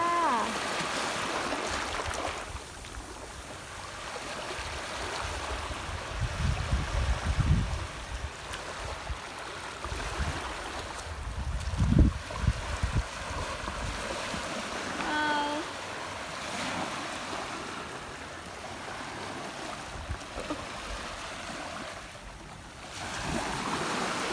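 Sea waves wash and surge against a rocky shore with seaweed-covered rocks, a steady broadband roar with a few heavier swells breaking midway, fairly close and continuous with wind, no talking.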